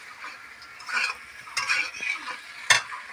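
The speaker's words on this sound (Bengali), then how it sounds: "তোমরা কষিয়ে দেখবে মশলা দিয়ে এভাবে কষিয়ে নেবে আলুগুলো" Potatoes being sautéed with spices in a pan for a village-style egg curry, with scattered stirring scrapes and soft frying noise building into a sharp utensil knock near the end.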